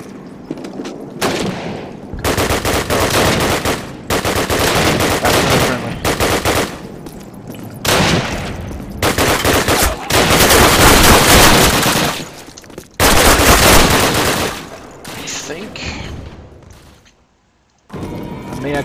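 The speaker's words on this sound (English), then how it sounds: "Submachine gun." Submachine gun fire in Call of Duty, a Soviet mission, comes in long, loud, rapid bursts with short pauses between them and explosive booms mixed in.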